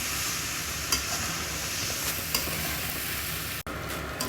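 Pasta mixed in a pan while it cooks makes a continuous sizzle and stirring scrape, fairly close and steady, with a sharp clunk near the end.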